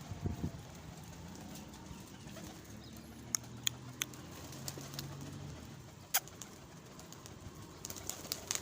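Soft, low pigeon coos murmur through a steady outdoor hum, with a few sharp clicks and taps scattered across the clip.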